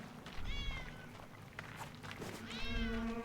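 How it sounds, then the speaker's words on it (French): A cat meows in the war game 11-11 Memories Retold, two drawn-out rising cries close by, separated by scuffling movement and background noise. "Verdammte Katze, komm hierher."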